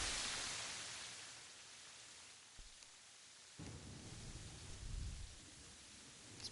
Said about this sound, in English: before all the rain started to interrupt